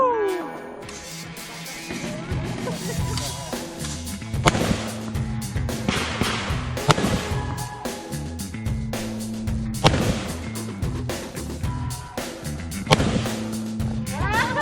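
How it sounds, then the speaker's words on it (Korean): Live-ammunition rifle shots at a firing range ring out as a series of loud, sharp cracks at irregular intervals over steady background noise, with voices talking in between. "생애 첫 사격, 실탄사격."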